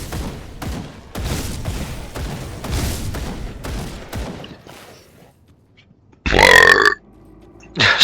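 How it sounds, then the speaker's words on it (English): A monster's deep, loud burp in the video game Grim Dawn, a sharp belch standing out after a stretch of rapid thumping combat hits, with another burp starting right at the end. "There's the meatball burps again."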